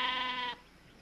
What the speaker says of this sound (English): They're sheep.